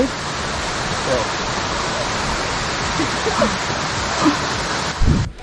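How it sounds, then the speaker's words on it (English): A waterfall on Mount Willard in the White Mountains roars in a steady, dense wash of rushing water close by. A brief voice and a knock come near the end. "that's a really nice waterfall"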